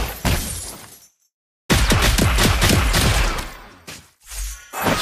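Mobile Legends gameplay with a loud, rapid barrage of gunfire in dense bursts, a brief silent gap, then more crackling shots and impacts, close and dominant.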